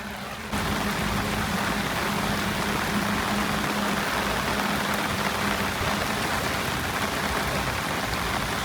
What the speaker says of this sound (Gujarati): આજે વરસાદ ધમધમી રહ્યો છે અરવલ્લી જિલ્લામાં